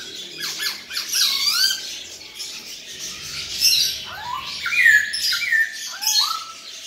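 A white-cheeked Hong Kong poksay laughingthrush calls steadily, with loud squawks, squeaky rising whistles and chattering notes repeating close by without pause, no talking.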